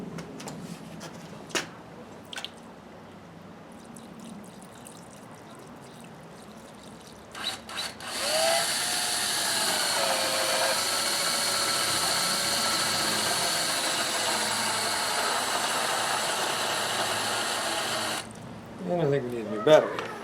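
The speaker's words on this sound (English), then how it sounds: "I'm going to aim that right on the spot where I'm going to drill." A power drill bores into stone with water on the spot, giving a loud, steady, continuous grinding whine for about ten seconds after a few quiet knocks, then stopping abruptly.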